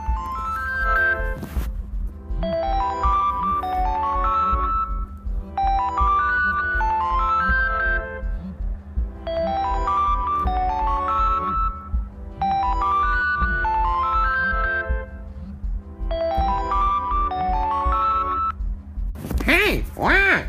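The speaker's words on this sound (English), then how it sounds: "That is the alarm clock." An alarm clock ringtone plays a bright, repeating electronic melody of rising beeping notes over a steady low tone, in loud bursts of about two seconds separated by short gaps.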